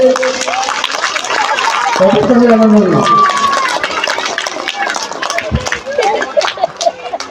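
An audience at a school's annual cultural show applauds in a broad wash of clapping mixed with crowd chatter and talking, steady and fairly loud throughout.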